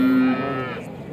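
A cow mooing at the Chintamani cattle market, one short close bellow that fades quickly, followed by faint background murmur.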